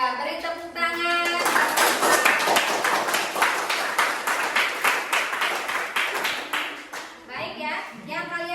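Students clapping in a classroom, a rapid run of sharp claps lasting several seconds between stretches of voices talking, with children's voices heard alongside.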